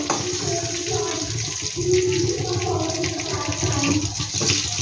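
Cumin seeds fry in a small amount of oil in a home kitchen while koikopi is cooked, giving a close, continuous hissing sizzle that stays steady throughout.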